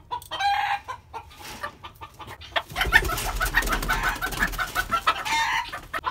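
Chickens and other poultry cluck and chatter close by, sparse at first and then busier and louder as the birds are placed into a new storage-room home.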